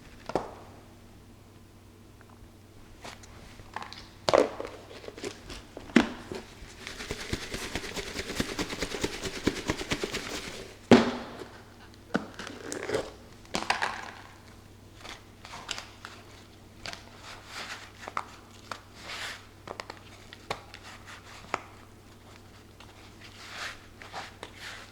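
Chicken being pressed and coated in breadcrumbs for chicken parmesan makes soft, irregular crunching and pressing noises, with light taps and rustles close by in a quiet kitchen.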